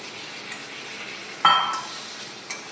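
Minced meat sizzles softly in a hot pan with a stir, a sharper burst of frying near the middle and a few light metal clinks of a utensil against the pan.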